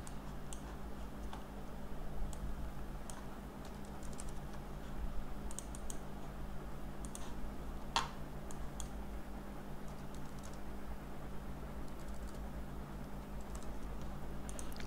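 Computer mouse clicking while working in school billing software: sparse, light, close clicks scattered over a quiet room hum.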